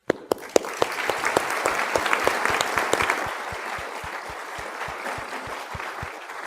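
An audience at a gorilla conservation talk breaks into applause to welcome a speaker. A few sharp claps open it, then dense clapping fills the room, holds for several seconds and thins toward the end.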